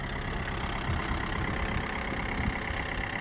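A Linde H35D diesel forklift engine runs at a steady idle, a continuous close, low mechanical rumble with a faint rattle and no change in pace.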